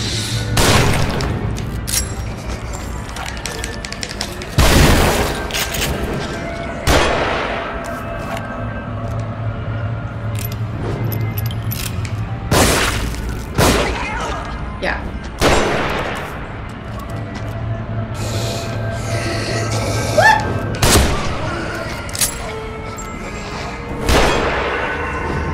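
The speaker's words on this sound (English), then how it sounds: "Where are you shooting from?" Video game gunfire from The Evil Within comes as loud booming shots and clanging impacts scattered over a dense, continuous game soundscape. The bursts are irregular, with a few heavy blasts standing out.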